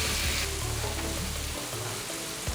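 Palm weevil larvae sizzle as they brown in a pan, a dense, even crackle heard up close with no voices, steady across the short stretch.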